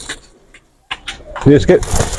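Pigeons on a rooftop loft give a few soft cooing calls, close and moderately loud, with brief rustling and a quiet gap in the middle.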